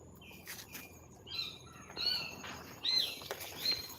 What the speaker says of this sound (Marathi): तिकडे पक्ष्यांचा मस्त आवाज येतो आहे